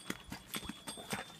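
Horse hooves walking up a steep hill trail on a horse ride near Nainital, a series of close, uneven clip-clop steps, soft and quick.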